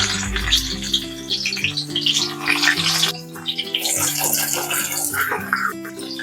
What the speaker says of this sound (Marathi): तेल आपलं गरम झालेलं आहे आपण त्याच्यामध्ये लसूण घालून घेऊयात